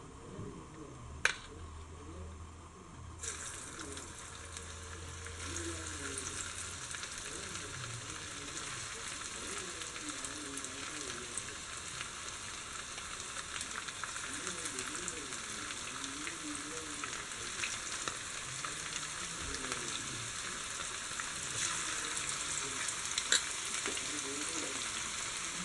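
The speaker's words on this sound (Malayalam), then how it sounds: "ഇനി ഇതിലേക്ക് നമുക്ക് മീൻ കഷ്ണങ്ങൾ ഓരോന്നായിട്ടിട്ട് വറുത്തെടുക്കാം" Fish pieces deep frying in hot oil for a Kerala fish pickle give a steady, dense sizzle that crackles without pause for the whole stretch, growing slightly louder and fuller after the first few seconds.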